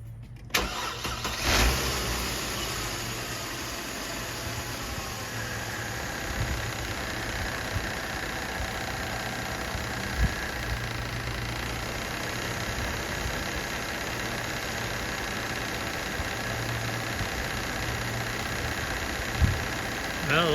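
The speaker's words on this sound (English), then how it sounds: "I'm going to start the car and see what happens." A Mercedes-Benz ML350 (W164) engine cranks and catches with a short starter whirr, then settles into a steady smooth idle with faint air-conditioning blower noise over it.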